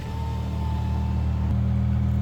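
A BMW M6 with some mechanical issues sits idling nearby at an airport, giving a steady low engine drone with a faint whine and a slight bump partway through.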